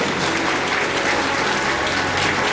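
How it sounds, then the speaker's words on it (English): A crowd at a debutante ball applauds the debutantes with dense, loud, continuous clapping that fills the hall evenly from start to finish. "Let's give them a round of applause"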